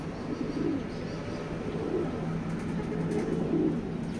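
Large grizzle racing pigeons at a loft coo in low rolling phrases, repeating every second or so, close and fairly clear over a soft steady background hum.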